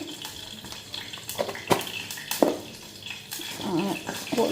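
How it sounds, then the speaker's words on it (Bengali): Teasel gourds rinsed under running water in a home kitchen, with splashing and scattered knocks against the vessel, moderately loud and close. "তো এই যে কাঁকরোলগুলি ধুয়ে নিচ্ছি"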